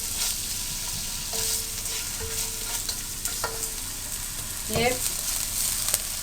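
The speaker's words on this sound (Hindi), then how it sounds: "चिकन फ्राई करें।" Chicken fries and sizzles in a pan for spaghetti, a steady close hiss broken by scraping stirs, with a few words spoken over it.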